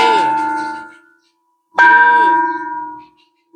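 A temple bell is struck twice, each ring loud and close, sustaining a bright metallic tone that slowly fades, with a brief silence between strikes.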